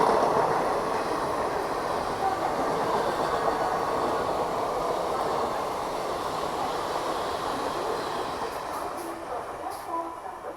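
Trains crossing near Liluah station on the Howrah main line, a loud close rumbling roll of wheels and carriages that holds steady and slowly fades, with faint clicks near the end.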